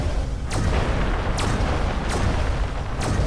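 Repeated missile explosions in the video game Destroy All Humans Remastered, four booming blasts spaced roughly a second apart over a continuous loud rumbling background.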